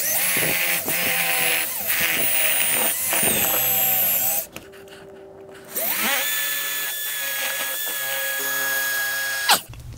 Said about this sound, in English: I'll use the included drill bit that came with the sensor to drill the holes for it to